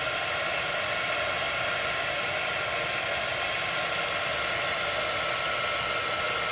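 A heat tool blows hot air to emboss powder, making a steady, close rushing hiss with a faint motor whine underneath, unbroken for the whole stretch.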